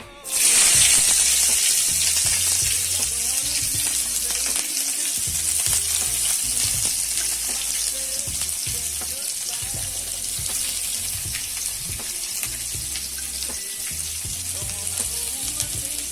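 Chopped onions sizzle loudly in hot mustard oil with cumin seeds, a bright, constant crackle that bursts in at the start and then settles, broken by occasional stirring clatter.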